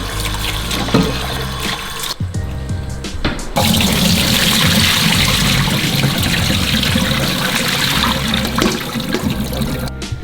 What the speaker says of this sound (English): So what we're gonna do now is we're gonna rinse off the salt.